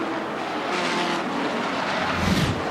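V8 ute race car running wide onto the grass over a hill at Pukekohe raceway, a steady loud engine roar with a rougher low-end surge near the end, no talk.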